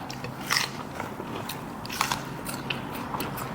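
Biting into crunchy shrimp soaked in fish sauce with chili, a few close crisp crunches followed by quiet chewing.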